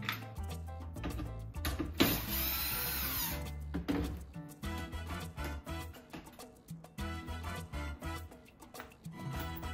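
A power driver whirs in short bursts removing screws from an audio amplifier casing, close by, with a longer run near the start followed by repeated clicks and handling noises.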